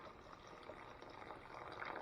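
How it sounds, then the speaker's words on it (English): Quiet, continuous liquid pour of ice water into catfish batter, a soft steady trickle with no talking over it. "I'm gonna pour it in there a little bit at a time"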